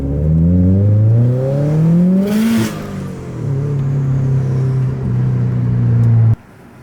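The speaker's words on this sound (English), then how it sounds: "But just hear this wastegate scream." A modified Subaru car engine revs up with rising harmonic pitch, then a sharp hissing turbo wastegate scream cuts through before the engine settles, steady and loud, and abruptly stops.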